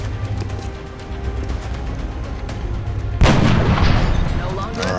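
A sniper rifle headshot in the turn-based game X-COM: Enemy Within, heard as a sudden loud boom that cuts sharply over a low background hum and rings out with a rumbling tail.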